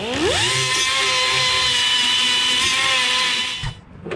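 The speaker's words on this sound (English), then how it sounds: "I'm gonna grind each of those rivets off" A die grinder whines up to speed and holds a steady, loud high-pitched grind as it cuts rivets off a Hinson clutch, running continuously for several seconds before cutting out abruptly near the end.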